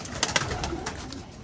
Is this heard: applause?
no